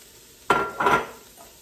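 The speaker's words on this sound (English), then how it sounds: "I'm going to add now diced carrot," Diced carrot tipped into a hot pan of browned garlic for a vegan corn chowder, two short bursts of sizzle with stirring, close and alone, fading quickly.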